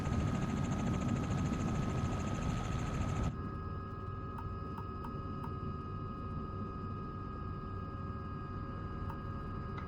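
A helicopter in Microsoft Flight Simulator, sitting on a hospital helipad, gives off a continuous steady rotor and engine drone that drops to a quieter, thinner hum partway through, with no voices over it.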